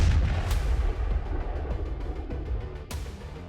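Bomb blast destroying a house used as a hideout in South Lebanon, a loud deep rumbling boom that rolls on and decays, with a sharp crack near the start and another near the end.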